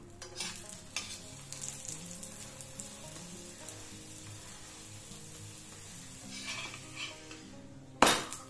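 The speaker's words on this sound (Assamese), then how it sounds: "ইয়াতে দিছোঁ ঘি এইটো সাইডো এনেকুৱাকৈ উল্টাই দিছোঁ" A sweet corn paratha sizzles in ghee after being flipped in a pan, a steady close frying hiss with occasional utensil scrapes and a sharp clink near the end.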